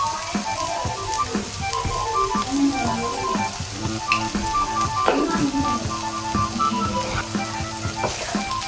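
Fish roe sizzles and crackles steadily in hot oil in a pan with plenty of black pepper powder, a constant close frying hiss with small pops and no talking.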